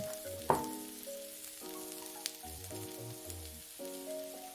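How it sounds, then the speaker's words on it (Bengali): Egg and tomato masala sizzles quietly in a pan while being stirred, a soft, steady frying hiss with a brief scrape near the start, mostly covered by louder background music. "দেওয়া শেষে আবার একটু নেড়ে নিচ্ছি।"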